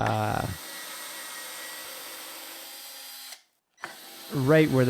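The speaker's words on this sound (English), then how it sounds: "drilling in, making sure not to go too deep into the plywood" A power drill bores dowel holes into plywood for a studio desk build, giving a steady, sustained whir for about three seconds that cuts off abruptly, with a person talking briefly before and after.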